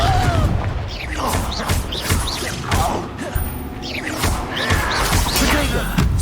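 A Confringo fire spell in the game Hogwarts Legacy bursting into loud, close explosions amid a chaotic battle of crashes, whooshes and thuds, with a voice shouting briefly.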